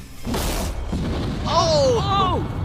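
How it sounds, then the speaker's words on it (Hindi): A creeper explosion in Minecraft blows up a whole village with a short, loud burst, followed by sweeping, warbling game effects over a dense rumbling background. "आगे हम एक पूरे के पूरे गांव को एक क्रीपर धमाके से उड़ाने वाले हैं"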